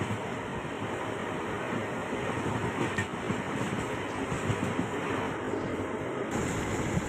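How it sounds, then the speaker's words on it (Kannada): A fast train rushing past near a railway station beside houses, a steady loud broadband roar of wheels on rails that holds throughout with no talk. "ಇದು ಯಾವುದೋ ಟ್ರೈನ್ ಏನು ಫಾಸ್ಟಾಗಿ ಹೋಗ್ತಿದೆ."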